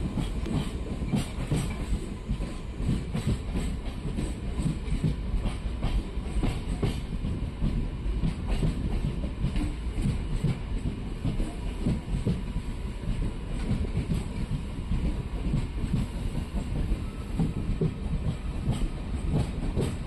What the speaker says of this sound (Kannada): ನಮ್ಮ ಟ್ರೈನು ಕುಮಟಾ ರೈಲ್ವೆ ಸ್ಟೇಷನ್ಗೆ ಎಂಟ್ರಿ ಆಗಿದೆ.